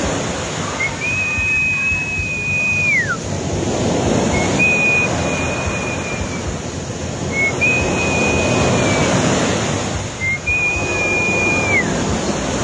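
Ocean waves roll and break on a beach at a resort in Toril, Davao City, a loud, steady wash of surf that swells and fades, with a few thin whistling squeals over it.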